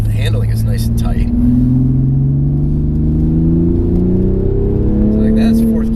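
A 2020 Toyota Supra engine pulls steadily on a track, its droning tone climbing smoothly through the revs under continuous in-car talk.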